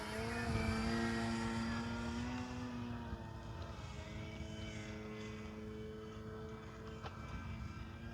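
An Avios Extra NG radio-controlled airplane flies with a steady propeller drone at moderate distance, its engine pitch easing slightly lower as power changes, with no talk.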